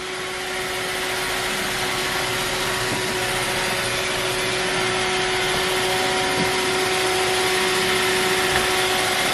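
An iRobot Roomba robot vacuum running while weighed down, a loud continuous whirring motor and brush drone with a steady high whine, close and unbroken throughout.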